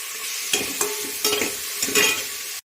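Tempering spices crackle in hot oil, close and continuous, while a spoon scrapes and knocks the pan about four times before the sound cuts off abruptly.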